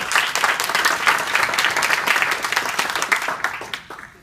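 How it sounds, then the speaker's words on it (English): Audience at a community meeting applauds a neighborhood prosecutor, a dense, fairly close burst of clapping that holds steady, then thins into a few separate claps as it fades out. "Give an applause"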